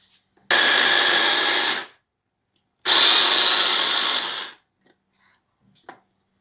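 An electric chopper chops onion and shallot in two loud bursts of about a second and a half each, separated by a short silence, with a small clack afterward.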